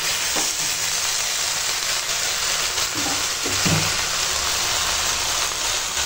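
Chal kumro (ash gourd) greens hit hot oil in a pan, giving a steady, close, loud sizzle with a few brief stirring knocks and no talk.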